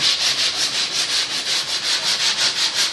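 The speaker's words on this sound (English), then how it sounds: "quite light pressure here because we're trying to sand basically to nothing" Sandpaper rubs with light pressure along the laminated edge of a plywood covering, a steady run of even back-and-forth strokes, close and unaccompanied by talk.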